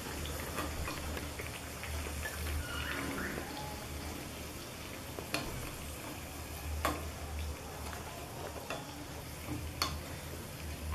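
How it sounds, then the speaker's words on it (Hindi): Potato pakoras fry in hot oil with a steady low sizzle and bubbling, broken by occasional sharp ticks and clinks, heard up close at a moderate level with no voices. "इसी प्रकार से हम सारे पकोड़े तल लेंगे"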